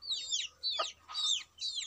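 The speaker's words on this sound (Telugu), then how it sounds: "తీసుకోండి కోళ్ళు అమ్ముతాము" Native country chickens cluck in a few short, separate bursts, close by and fairly quiet, with no talk over them.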